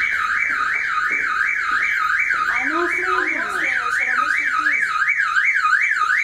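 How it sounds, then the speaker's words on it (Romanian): A neighbour's loud warbling alarm siren wails continuously, rising and falling in a rapid regular pattern, while a person briefly speaks underneath it. "Nu, este alarma vecinului."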